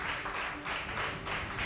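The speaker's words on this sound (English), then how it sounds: "Sustain the clap" Moderately quiet applause from an audience at a school quiz competition, rising and falling in soft waves of many hands clapping.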